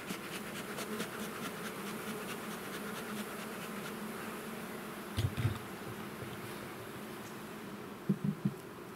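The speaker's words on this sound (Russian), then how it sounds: "Рой продолжает гудеть." A honeybee swarm at a hot summer apiary, a steady close buzzing drone that hangs evenly throughout, broken by a few brief low thumps partway through and again near the end.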